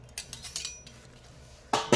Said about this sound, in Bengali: আর এখানে এই যে 6টা থালা।